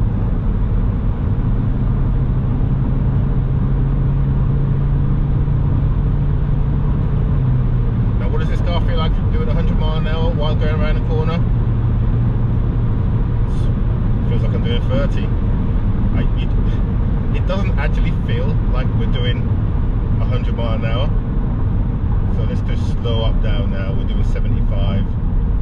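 A car drives at speed in a fast lane, producing a loud, constant road and engine roar with a low drone, while someone talks throughout.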